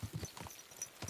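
Horse hooves clip-clop in a quick, uneven rhythm of several soft, muffled steps on the ground, ridden in the medieval game Kingdom Come: Deliverance II, heard fairly close with no speech over them.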